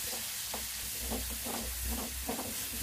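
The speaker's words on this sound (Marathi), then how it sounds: "आता गरम झालेल्या तेलात आपण घालणार आहे लसूण आणि अद्रकची पेस्ट" Garlic and ginger paste hisses in hot oil for a prawn keema, a soft, even sizzle with gentle pulsing stirs, fairly quiet and close, with no talking.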